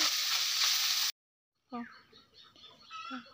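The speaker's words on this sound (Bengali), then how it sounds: "মাছগুলা দিয়ে দিলে কড়াইতে গরম গরম তেলের মধ্যে এখন মশ করে ভাজা করে নেবে" Loud, bright sizzling of tengra fish frying in hot oil in a kadai for about a second, then an abrupt cut to silence, followed by someone talking.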